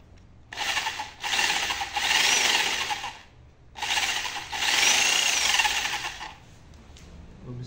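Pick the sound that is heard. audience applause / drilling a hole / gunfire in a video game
drilling a hole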